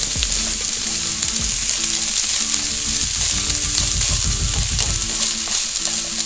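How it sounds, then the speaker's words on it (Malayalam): Onions sauté in a pan, sizzling steadily while being stirred for a mutton kizhi porotta dish, with a constant frying hiss at close range under rhythmic background music. "ഇനി ഇത് ചെറുതായിട്ടൊന്ന് കളർ മാറി വരുന്നത് വരെ നമുക്കൊന്ന് വഴറ്റി കൊടുക്കണം"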